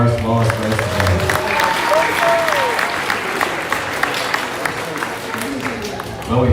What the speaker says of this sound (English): let's give a big round of applause for our smallest race today